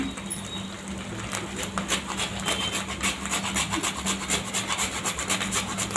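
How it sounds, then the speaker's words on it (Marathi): Whole nutmeg grated by hand over a sweet puran filling for Marathi puranpoli, a steady close scraping rasp repeating in quick strokes over a low kitchen hum. "थोडी इलायची टाकायची आणि जायफळ थोडं किसून टाकते"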